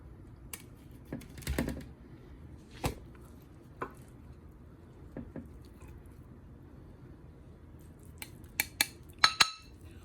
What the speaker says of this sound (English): you can, cut it as I'm doing, or you can just spoon it out